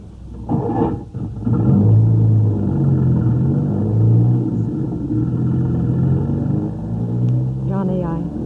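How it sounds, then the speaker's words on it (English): A car engine rumbles and pulls away as a radio drama sound effect, a steady low drone that carries through the scene beneath continuing dialogue. "Johnny, get in the car."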